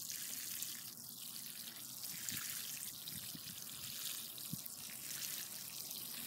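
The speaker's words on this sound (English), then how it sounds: "I'm going to give it a nice watering in" Water from a garden hose or can soaking the soil around a freshly transplanted zucchini seedling mulched with compost, a quiet, continuous trickle with a few soft drips and splashes.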